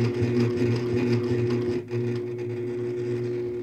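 A sewing machine runs steadily, stitching cross hatching along a ruler against the presser foot, its motor humming continuously close by with a brief dip before resuming.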